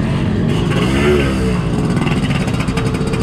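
A Yamaha RX King two-stroke motorcycle ridden on a trail, its engine droning loud and close throughout with slight shifts in pitch as the throttle varies.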